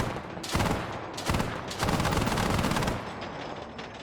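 Dense bursts of automatic gunfire in the Arma 3 video game, loud and sustained, with rapid rattling volleys broken by short pauses and a softer tail at the end.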